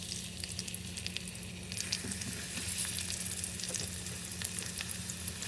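Onions frying in oil in a home kitchen give a steady, dense sizzle that grows slightly louder partway through, with faint stirring sounds underneath.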